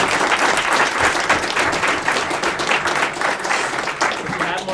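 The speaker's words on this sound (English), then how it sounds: "If you guys want to give them a round of applause." Audience applause fills a seminar room, dense steady clapping from many hands held at an even loud level throughout, slowly thinning slightly toward the end.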